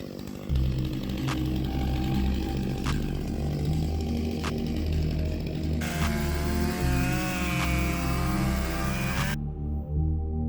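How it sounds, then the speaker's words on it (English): A chainsaw mounted on an Alaskan sawmill cuts through a spalted maple log, its engine holding a steady buzzing drone with small pitch shifts and a brief change in load near the end. "Oh yeah, don't worry about my chainsaw."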